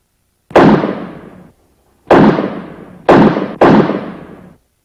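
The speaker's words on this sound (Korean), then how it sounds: "서울의 중심가에서 울린 네 발의 총성." Four sharp gunshots ring out, one alone and then a tight cluster of three, each a loud crack that fades quickly, with silence between.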